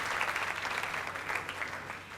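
A crowd applauds at the Onga Cook Art cooking competition finals among Ghanaian senior high schools, a continuous wash of clapping heard at moderate distance without talk.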